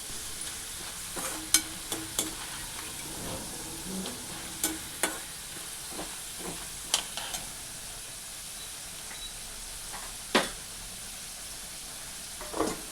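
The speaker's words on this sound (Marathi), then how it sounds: "तेलावरती छान असे मंद गॅसवर बटाटे व्यवस्थित परतून घ्यायचे" Finely chopped potatoes fry gently in hot oil on a low gas flame, a soft, quiet sizzle with scattered sharp clicks and taps from a spatula now and then.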